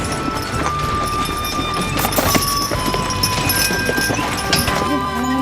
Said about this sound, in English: now Deborah gets to do what she does best, harass the horses